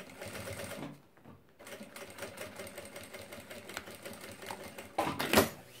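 A sewing machine stitches soft nylon lining fabric, starting and ending with a backstitch: a close, steady mechanical whir that pauses briefly, then resumes and surges louder near the end, with no talking.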